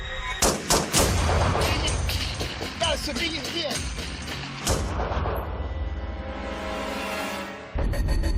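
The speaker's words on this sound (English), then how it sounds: "Hearing the gunfire" Several sharp, loud AR-15 rifle gunshots crack in quick succession amid shouting voices, followed by a sustained rushing noise that fades toward the end.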